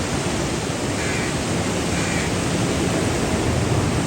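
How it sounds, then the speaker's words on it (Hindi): Fast-flowing floodwater in the river at Head Islam gives a loud, steady, unbroken rushing roar with no pauses and no voices. "कितना तेज़ी से जो है ना पानी का बहाव है।"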